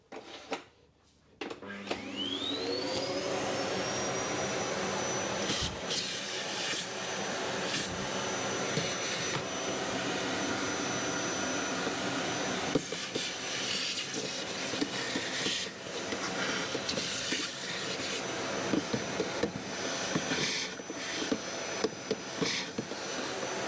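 A vacuum cleaner starts up with a rising whine and then runs steadily at close range cleaning the air filter housing of a 2013 VW Caddy 1.6 diesel, with occasional clunks and shifts in pitch.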